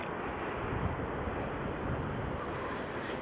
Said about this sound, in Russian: Не, нормальное море. Нет ни шторма, ничего.